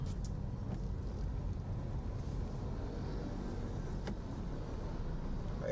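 Steady roar of road traffic on Tandang Sora Avenue, buses rumbling past in a continuous, loud low drone with no voices.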